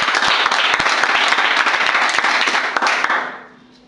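A church congregation bursts into loud, dense applause at a pastor's service, clapping steadily for about three seconds before quickly fading out.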